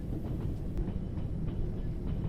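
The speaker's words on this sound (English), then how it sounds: "Another passenger train" A passenger train in the Trans Siberian Railway Simulator rolls past with a steady low rumble and faint rhythmic clatter, a continuous dense wash of rail noise filling the short stretch without any voices.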